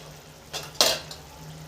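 A lid is lifted off a cooking pot of boiling food, giving two quick metallic clinks close by over a quiet kitchen background.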